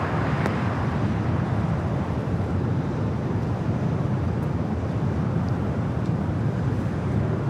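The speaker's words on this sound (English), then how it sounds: "That was the flight coming in from London Heathrow, that 777-200ER." A Boeing 777-200ER airliner arriving from London Heathrow at LAX, cleared to land on runway 25 left, gives a steady, fairly loud broadband roar that holds unbroken throughout with no voices.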